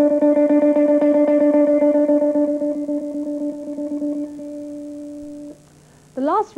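An electric guitar picked with a plectrum, a steady run of notes struck hard and loud at first, then gradually softer as the attack eases, ending in quiet before a brief sliding note.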